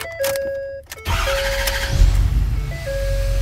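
A Ford car engine cranks and catches after being started with a newly programmed key, then settles into a loud, close idle, with electronic chime tones sounding from the dashboard before and during the start.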